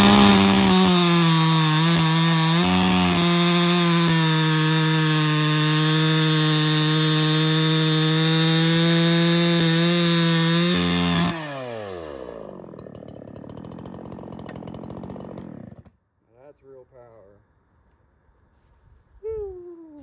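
A Holzfforma 372xp 71cc chainsaw, a Husqvarna 372xp clone with a muffler mod and advanced timing, screams loudly at full throttle while cutting wood, then winds down to idle and shuts off, leaving a few faint knocks.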